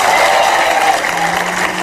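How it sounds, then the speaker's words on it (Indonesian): A studio audience at a television comedy talk show applauds in a dense, steady patter that stays loud and close for a couple of seconds without a break. "tepuk tangan dong"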